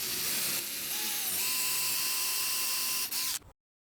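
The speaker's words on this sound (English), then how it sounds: "So I'm going to drill in just up to about 1/3 of the way or 2/3 of the way up the shaft." A power drill whines steadily and loudly, boring a screw hole for a shutter pintle. Its pitch dips slightly under load before the sound cuts off abruptly.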